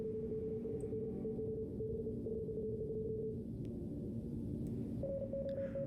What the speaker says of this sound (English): Are they like actually doing this by Morse code?